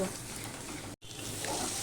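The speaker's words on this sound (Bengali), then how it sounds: "এবার আমি মশলাটাকে কষিয়ে নেব" Spice paste (masala) fries in a pan for a winter small-fish curry, giving a steady, close sizzle with a faint scrape of stirring. The sizzle cuts out for a moment, then comes back.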